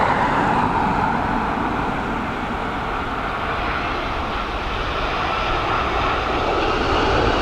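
An Air Canada airliner in its baby-blue livery lands at Dublin Airport in high winds, with a steady, loud, broad engine roar that holds throughout without fading.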